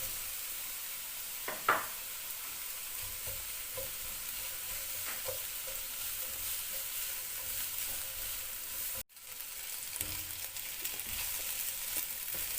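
Chicken and vegetables for chow mein sizzle steadily in a hot pan, a soft, continuous hiss with a few quiet scrapes and stirring clinks, faint and close, with no talking.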